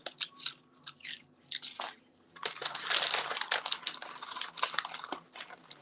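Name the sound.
crunching on chips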